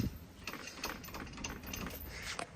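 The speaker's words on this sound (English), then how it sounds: "you're going to hit this with a wrench, but quick" Ratchet wrench clicking steadily while working on the rear carrier of a Yamaha Raptor 700 ATV, a quick run of close, fairly quiet ratcheting with no talk.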